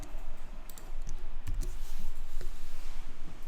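A few sharp computer mouse clicks, including a right-click, sound up close during an image save in Adobe software, separated by gaps over a steady background hum.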